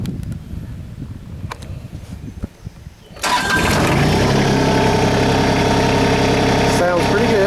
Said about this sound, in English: So we're going to go ahead and get it fired up.